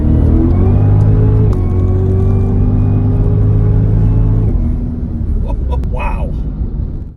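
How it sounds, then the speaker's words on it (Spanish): A 640 hp American V8 sedan roars with a loud, steady engine drone from close by. The note eases off partway through, and voices carry faintly over the rumble. "El sonido del motor de este coche es maravilloso."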